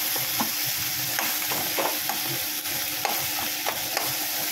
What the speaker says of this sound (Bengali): আর এদিকে মাছের মাথাগুলো ভেজে নিচ্ছি